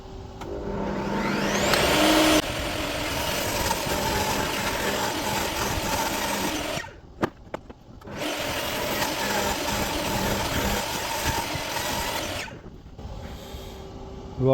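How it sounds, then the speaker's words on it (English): A piece of oak is sawn into three for spindle legs, a loud continuous machine whine running steadily, dropping briefly between cuts before starting again. "I'm just going to cut this piece of oak in 3 for the spindle legs"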